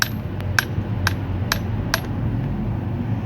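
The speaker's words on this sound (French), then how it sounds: "Et donc là, je le tape avec un marteau ici." Hammer strikes on a freshly cast, still-hot bronze Buddha figure from a sand mould, knocking off the sprue in a foundry; five or so sharp metallic taps at irregular intervals over a steady low workshop rumble.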